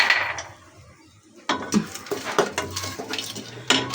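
A pressure cooker is set down on a kitchen stove, with metallic clinks and clanks of the pot against the burner, up close and with no one talking.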